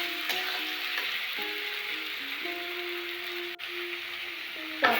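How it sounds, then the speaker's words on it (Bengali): A paste-based curry with salt sautés in a pan for a lote fish dish, giving a steady, moderate sizzle throughout, with soft sustained melodic tones underneath and a brief clatter near the end. "লবণও দিয়ে দেবো। কিছুক্ষণ কষিয়ে নেব।"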